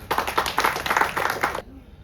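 Audience applause at a Tamil film audio launch in Chennai, a dense burst of many hands clapping for about a second and a half, then cutting off abruptly into near silence.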